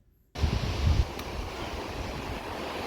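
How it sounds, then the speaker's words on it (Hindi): Steady broadband rush of flowing water from a stream that drives a water mill near a waterfall in Khornar meadow, starting abruptly with a louder surge and then holding constant, with no voices. "यहाँ पे ये पानी का एक ज़रिया है जो चक्की को चलाने में पूरी मदद करता है।"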